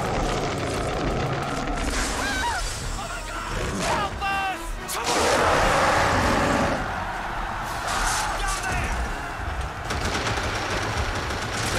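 Gunfire in the King Kong video game's New York City finale, bursts of rapid shots and booms amid loud, dense game noise, with a voice talking over parts of it.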